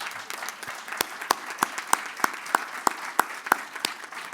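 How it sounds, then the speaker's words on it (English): Audience at an annual general meeting applauding the staff team: sparse, distinct handclaps with a steady rhythm, fairly close and moderately loud, with no talking. "let's give them a big round of applause"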